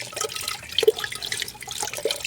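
A little water is added to a plant's leaves, which are then gently scrubbed, giving a soft, continuous wet swishing with small splashes, close by.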